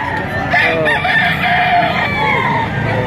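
A deep red rooster for sale at a fowl market crows loudly and close, one long drawn-out call filling the moment over a busy crowd din.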